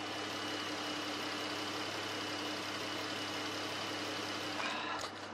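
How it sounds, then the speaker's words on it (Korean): An imported large sedan's V6 engine idles with the hood open: a steady, smooth, quiet hum heard up close and alone, unchanging throughout. "바로 엔진 소리 한번 들려드릴게요."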